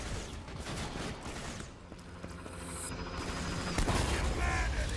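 Auto cannons firing in the Borderlands 2 video game, a dense continuous clatter of rapid gunfire and mechanical noise, loud and sustained, with a heavier thump near the end.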